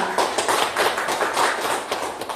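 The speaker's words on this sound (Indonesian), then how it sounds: "Kita beri aplaus semuanya untuk kita." Teachers at a school gathering applauding together, a dense burst of many hands clapping at close to moderate distance, steady for a couple of seconds, no speech.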